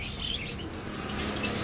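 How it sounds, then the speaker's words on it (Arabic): Levantine bulbul calls at a busy Baghdad bird market, with brief high chirps and tweets over a constant low crowd murmur and market bustle. "البلبل الشامي هذا، البلبل اللبناني والسوري"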